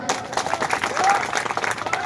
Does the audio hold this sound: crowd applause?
yes